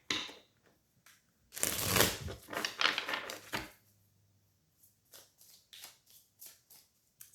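Tarot cards riffled and shuffled in a quick burst of crisp papery flutters, followed by softer scattered taps as the cards settle.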